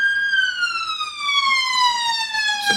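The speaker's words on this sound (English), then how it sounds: "it's an ambulance, fire engine," An emergency vehicle siren, ambulance or fire engine, wails loud and close in a single sustained tone that slowly drops in pitch as it passes, with no talk over it.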